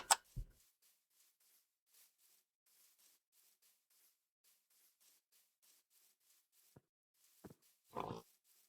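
Minecraft pigs oink in a few short grunts, clustered at the start and again near the end, set against faint game ticking and otherwise near silence.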